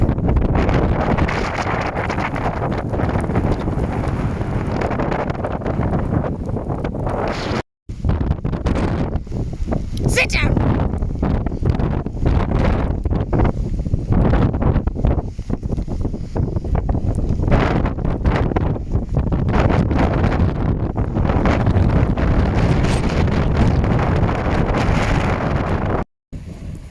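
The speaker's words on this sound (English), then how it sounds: "it is very wet, very windy, and it's quite cold" Strong wind buffets the microphone in heavy, continuous roaring gusts on a wet, cold January day, with a person talking underneath and a brief shout.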